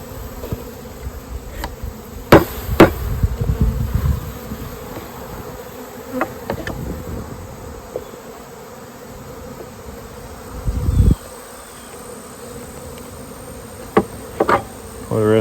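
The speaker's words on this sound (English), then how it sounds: "I see a lot of nurse bees in here" Honey bees buzzing steadily around an open hive during a mite check, a close, continuous drone with scattered sharper knocks and clicks from handling the frames.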